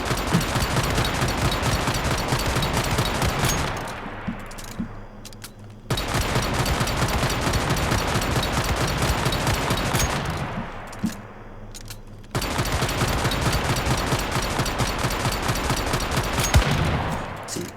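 Rapid automatic weapon fire and explosions in the video game Once Human during damage testing, dense continuous bursts of gunfire in three long volleys separated by brief pauses, loud and close with no talking.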